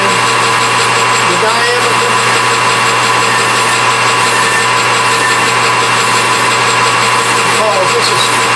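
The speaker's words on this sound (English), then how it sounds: "we'll file on it just a bit, and then we'll sand it" Metal pin for a garden tiller being worked in a machine shop, with loud, continuous grinding and abrasive rasping from filing and sanding that holds steady throughout, close up, with a steady mechanical hum underneath.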